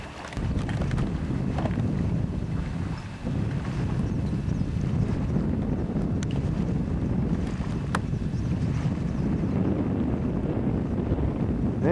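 Wind gusting across Crab Orchard Lake while sailing, a strong, continuous blustery rush buffeting the microphone, with faint boat and water sounds beneath and no talk.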